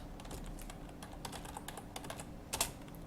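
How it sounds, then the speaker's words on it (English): Typing HTML code on a computer keyboard: a steady run of close, crisp key clicks with uneven rhythm, closing in a brief louder burst of keystrokes near the end, with no voices. "The document structure can be typed the exact same way."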